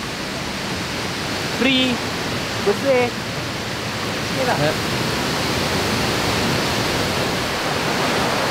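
River water rushing steadily at Sungai Kedondong, a broad continuous wash of flowing water from start to end, with brief bits of casual talk over it.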